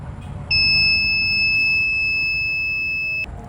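An ESP32-based smart kitchen gas sensor sounds its buzzer alarm, a loud, steady, high-pitched electronic tone that holds for nearly three seconds and then cuts off abruptly, over a quiet background hum.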